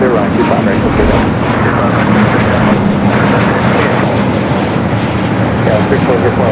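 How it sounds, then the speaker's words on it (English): A heavy jet airliner arriving on the north side at Los Angeles International Airport, a loud, continuous, broad engine roar close by with no breaks, while a voice speaks over it. "Back-to-back heavy arrivals on the north side."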